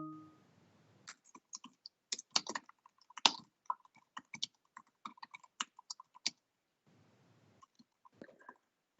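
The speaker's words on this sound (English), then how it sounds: "I'm just typing in some notes here." Someone typing notes on a computer keyboard during an online meeting, quick irregular bursts of close, crisp key clicks with short pauses, faint and alone in a quiet room.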